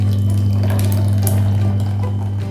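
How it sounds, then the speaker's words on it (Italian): Cream is poured from a pot into a jug with a spout, a soft, continuous liquid trickle with faint clinks, set over a steady low electrical hum. "Vado a versarla dentro una caraffa che ha un beccuccio"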